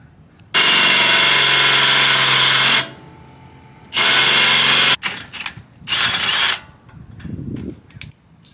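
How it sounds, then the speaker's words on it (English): A power drill with a 3/4 inch bit bores out a Jeep JK steering knuckle, whining loudly in two long sustained bursts, then shorter grinding bursts and ratcheting clicks with pauses in between, close and without talk. "Just got the knuckle drilled out."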